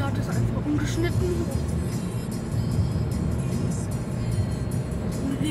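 Steady, loud drone of a car in motion, an engine and road rumble filling the whole clip at a constant level with no pauses or pass-bys.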